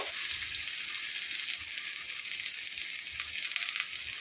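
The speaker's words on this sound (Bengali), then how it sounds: "পেঁয়াজটাও আমি অল্প লাল লাল করে ভেজে নেব।" Onion and garlic frying in a pan, giving a steady, close, hissing sizzle with faint low bumps throughout and no talking.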